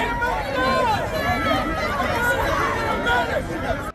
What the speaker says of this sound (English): the crowd is engulfed in panic, screaming for help as the tragedy unfolds